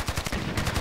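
An AK rifle fires in a video game, a rapid burst of about eight loud, close shots in quick automatic rhythm.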